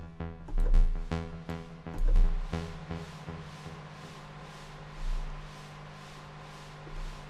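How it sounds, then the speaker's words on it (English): The noise generator of Ableton Live 10's Echo device hisses steadily in the background under echoing, decaying tones and repeating percussive hits that swell and fade, a wash of modulated noise with no voices. "there's now just a noise playing in the background that's being modulated over here"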